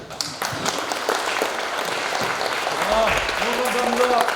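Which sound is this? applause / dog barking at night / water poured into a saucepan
applause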